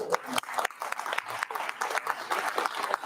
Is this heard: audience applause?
yes